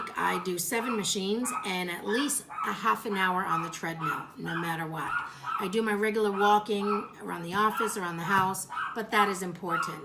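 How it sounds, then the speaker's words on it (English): A house dog barks and whimpers at visitors arriving, its excited yips and barks mixed in beneath steady, close-up talking from a person throughout. "Sorry about the dog."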